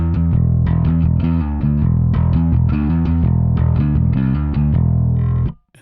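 Distorted bass guitar through a Rat distortion pedal with its filter turned darker, playing a steady riff with a dark, fuzzy, muffled tone, loud and continuous, then cutting off abruptly at the end.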